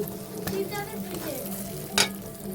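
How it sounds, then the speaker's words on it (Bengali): Spices fry in a pan with a soft continuous sizzle, punctuated by a couple of sharp clicks or crackles from stirring, quiet and close, with faint speech in the background. "মশলাটা আমার পুরো সুন্দরভাবে ভাজা হয়ে গেছে"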